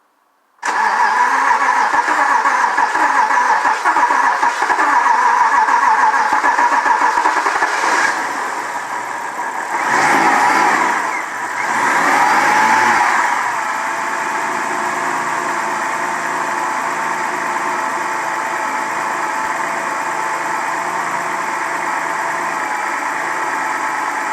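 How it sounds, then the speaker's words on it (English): A 2006 BMW 325i E90 with the N52 engine cranks and starts after a belt tensioner replacement, then settles into a steady, even idle that stays loud and close with a brief revving swell partway through. "start the car right up"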